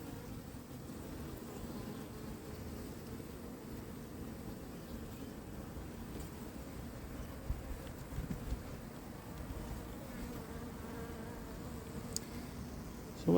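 Honey bees at an opened hive during a spring colony inspection in New Jersey, a faint, continuous low hum of many bees droning close by with a few small knocks and rustles.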